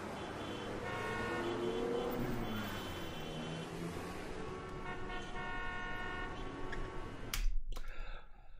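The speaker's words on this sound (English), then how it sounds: "let's have a listen to our city noise" City traffic noise, a dense steady rumble of cars with several horn toots layered through it, moderately distant, ending in a couple of sharp clicks, with no voices.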